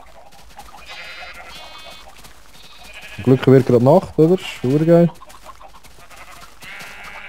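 Sheep in the video game Minecraft let out a few loud, wavering bleats in a short cluster, while players chat in Swiss German before and after the calls.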